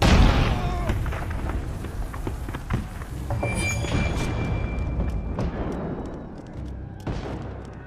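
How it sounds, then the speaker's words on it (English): Cannon fire in the video game Assassin's Creed Brotherhood: a loud, close boom at the start, then a string of further blasts and rumbling impacts of varying strength, along with clattering effects. "Reload the cannons!"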